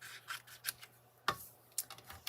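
Scissors trim Designer Series paper in a quiet room, a few crisp separate snips spaced unevenly, with one sharper cut midway and light paper rustle between.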